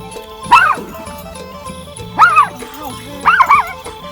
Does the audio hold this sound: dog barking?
yes